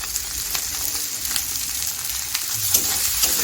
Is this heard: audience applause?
no